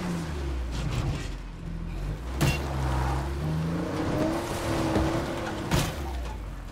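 A car in the zombie survival game State of Decay 2, its engine droning low and continuous with shifting pitch as the loose-handling vehicle slides, plus a couple of sharp knocks along the way.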